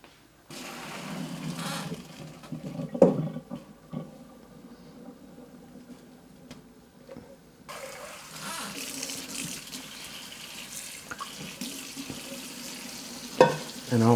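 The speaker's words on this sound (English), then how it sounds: "this is the time that you have to drain the excess water and put it back to the pot" Water pours and splashes as excess water is drained from parboiled rice, a steady hissing rush with clattering pot or colander knocks, quieter in the middle and then louder again as draining continues.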